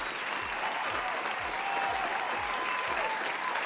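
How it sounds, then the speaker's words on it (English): Canned applause played from a soundboard on a gaming stream, a steady dense wash of many hands clapping, loud and continuous throughout with no talk over it. "Clap it up for him."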